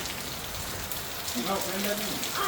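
Steady rain patters on a surface throughout, with a voice talking faintly underneath in the second half.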